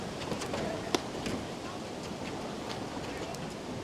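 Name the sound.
strong wind gusts outdoors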